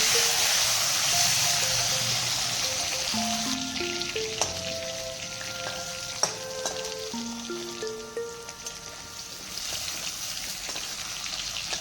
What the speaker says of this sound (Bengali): আমি বেশ কিছুটা আলু লম্বা লম্বা করে কেটে নিয়েছিলাম, সেইগুলো আমি একটু লাল করে ভেজে নেব